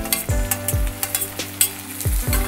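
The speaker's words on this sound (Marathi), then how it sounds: "टोमॅटो पण आपल्याला परतून घ्यायचा आहे।" Finely chopped tomato and onion sauté in a pan for vada sambar, with a soft sizzle under quick, rhythmic spatula scrapes and knocks, close and fairly loud, and no voices.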